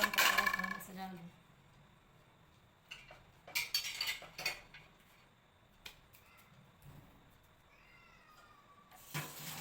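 Metal utensils and dishes clink in short, scattered bursts in a home kitchen as food is plated after Diwali cleaning, with quiet gaps between the clusters of clatter.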